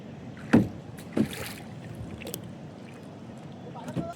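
A small rowboat moves on a river, its paddles splashing the water in a few separate strokes over soft wind and a low steady background, with people talking nearby.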